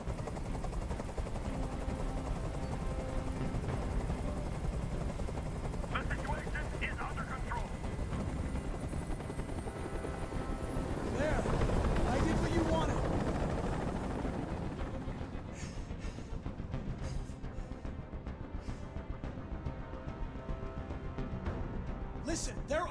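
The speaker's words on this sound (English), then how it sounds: "I can't stand that noise anymore. Tell that helicopter to get out of here." A helicopter's continuous rotor roar dominates, loud and near, in the video game Detroit: Become Human, with bursts of distant gunfire and rumbling effects mixed in; voices speak faintly underneath.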